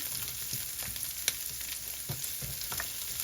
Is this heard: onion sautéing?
yes